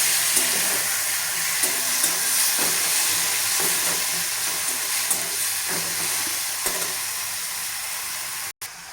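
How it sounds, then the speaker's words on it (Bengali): Onion and spices fry in a pan as a steady, fairly loud sizzling hiss, broken by occasional soft stirring scrapes and a brief dropout near the end. "মশলা কষাচ্ছি।"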